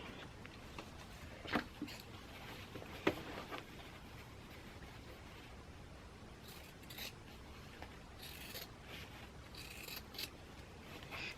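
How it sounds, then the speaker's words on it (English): Quiet snipping of scissors cutting through fabric, a few separate crisp snips with soft rustling between them, close by and without talking. "Get some scissors so I can trim this off."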